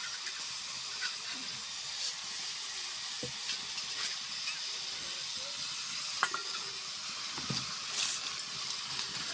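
Cauliflower curry with ground cumin, ginger paste, bay leaf and water is stirred and sautéed on a clay stove, giving a constant soft sizzle and hiss with occasional scraping stir strokes.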